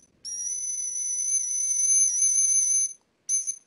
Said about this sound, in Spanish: es un silbato tubular, está hecho de madera, un tubito de madera hueca, y solamente tiene un sonido